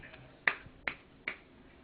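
A small child claps hands three times, light sharp smacks spaced evenly about half a second apart, close by in a quiet room.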